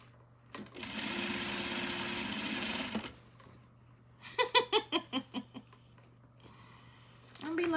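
A sewing machine hums through a steady run of stitching, then stops; a person laughs in short rhythmic bursts afterward.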